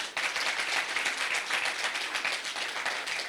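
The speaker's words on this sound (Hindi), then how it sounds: "एक बार जोरदार तालियां इनके लिए।" An audience applauding at a spiritual movement gathering, a dense steady burst of many hands clapping close and loud, lasting a few seconds without talk.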